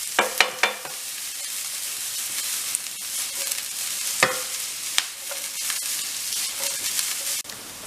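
Food sautés gently in a pan on very low heat with a quiet, continuous sizzle, scattered with occasional spatula scrapes and clinks, and no talking.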